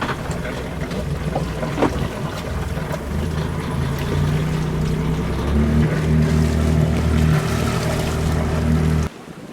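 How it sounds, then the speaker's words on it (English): A sailboat's inboard engine runs steadily while motoring in light wind, a continuous low droning hum with water and wind noise around it, close and constant until it cuts off abruptly at the end. "So we're gonna turn the engine on."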